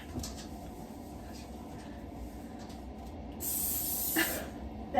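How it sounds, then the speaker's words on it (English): Cooking spray hisses from an aerosol can onto baking pans in a home kitchen, one sustained burst of about a second standing above a steady background murmur, with people talking nearby. "Spray the other one."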